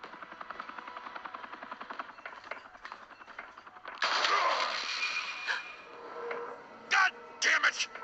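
Gunfire in the Batman Telltale game: rapid crackling shots under a steady rumble, with a louder burst midway and a few sharp blasts near the end.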